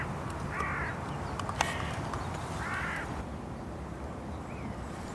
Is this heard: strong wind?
no